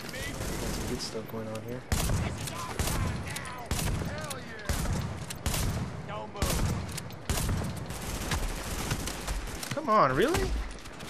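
A shotgun in The Division firing repeatedly, sharp loud blasts at irregular intervals of about a second, with a player's voice talking between some of the shots.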